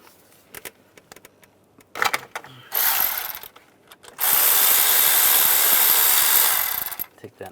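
A ratchet with a 13mm socket works a nut off the starter of a 2004-2010 BMW X3, making quick clicking bursts and then a long, loud, steady buzzing run of the pawl, close up with no talking.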